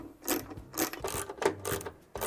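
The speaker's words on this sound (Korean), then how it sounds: "여기에 십자 드라이버로 푸는 나사가 2개가 있습니다" Phillips screwdriver unscrewing two cover screws on a Gaggia Classic Pro espresso machine, a close, repeated ratcheting scrape and metallic clicking in short bursts about every half second.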